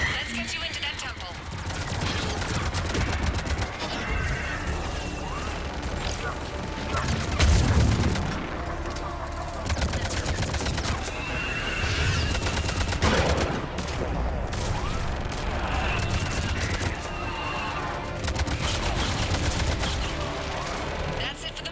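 Air-support missile strikes and rapid gunfire rattle through a Mass Effect 3 battle, with dense bursts of automatic shots, heavy booms and explosions, and voices calling out between volleys.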